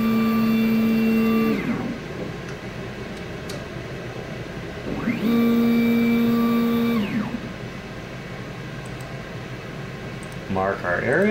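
An xTool S1 20W laser engraver runs its autofocus, giving two steady motor whines of about two seconds each that ramp up and down in pitch, over constant fan hum, with a short rattle at the end.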